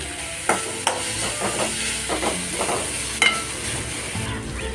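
Crushed ginger and garlic frying in a pan for an egg curry with coconut milk, a steady soft sizzle with occasional spoon knocks and stirring scrapes.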